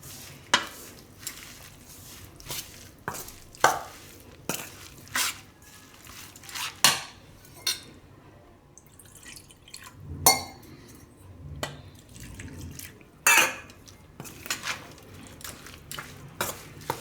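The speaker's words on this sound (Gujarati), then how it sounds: "થોડું થોડું પાણી નાખવાનું, મિક્સ કરતું જવાનું." A spoon stirs and clinks against a bowl as water is added a little at a time to oats vegetable pancake batter. The taps and scrapes come in an irregular rhythm, close and fairly soft.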